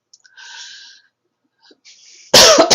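A single sharp, loud cough bursts out at the end after a few soft breathy sounds and near silence, close to the microphone.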